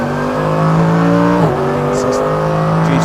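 Mercedes-AMG GT3 race car engine on a circuit, heard from the cockpit: a loud, steady high-revving drone with a sharp gear change midway, then pulling on again, with faint voice under it.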